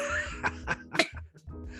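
A single quiet, stifled sneeze, short and close-up, surrounded by faint background noise, with no talking during it.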